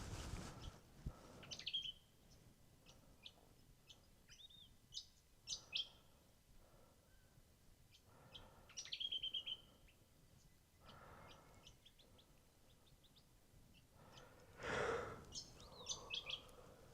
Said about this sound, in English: But while the birds sing, I'm going to make myself a coffee